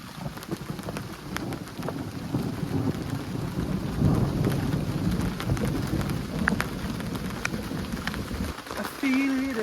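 Rain patters steadily on surfaces around a solo wild camp in the UK during a thunderstorm, with low rumbling thunder rolling underneath and a brief murmur near the end.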